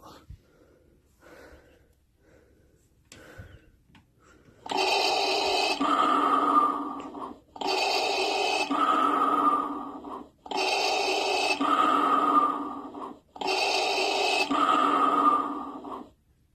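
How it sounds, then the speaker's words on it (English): A Star Wars Black Series Darth Vader helmet toy plays its electronic breathing effect, four loud, evenly spaced mechanical inhale-exhale cycles after a few soft handling noises at the start. "When this piece is on, it makes his actual breathing sound."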